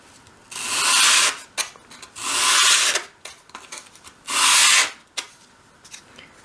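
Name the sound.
sanding a dollhouse wardrobe part on sandpaper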